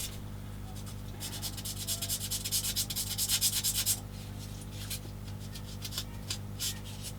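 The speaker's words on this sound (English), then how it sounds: "So I need to sand that quite nicely" A plastic part from a 1/16 Takom M10 IIC Achilles British tank destroyer model kit is sanded with steady, close back-and-forth strokes, then a few lighter, scattered rubs.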